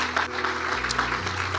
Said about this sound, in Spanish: Recibimos la palabra con un aplauso y tomas asiento.